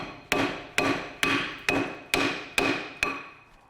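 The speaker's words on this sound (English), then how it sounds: "this isn't a big hammer, and I've just taken away half of that brake" Seven sharp metallic hammer blows ring out at an even pace, each striking hard against a rusty front brake disc on a Peugeot 206 and fading quickly, close by with no talking.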